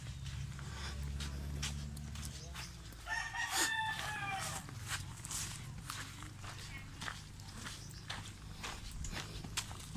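A red rooster crows on a mountain trail on Sibuyan Island, one clear cock-a-doodle-doo at middle distance rising above steady background noise, with footsteps and people talking around it.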